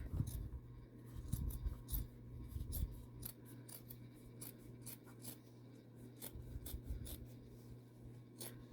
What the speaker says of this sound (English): You don't want to cut your straight edges, just the curve.